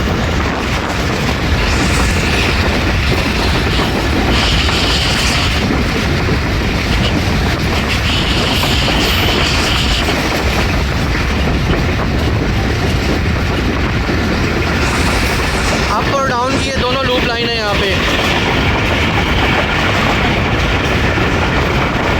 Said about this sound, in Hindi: खारियाँ रेलवे स्टेशन से ट्रेन हमारी थ्रू पास हो रही है।